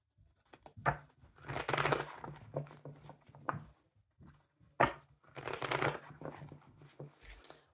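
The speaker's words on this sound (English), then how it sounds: "We'll do 2 more shuffles." A deck of tarot cards is riffled and shuffled in two separate bursts of crisp, papery flutter and slapping, close and fairly quiet, with no talking.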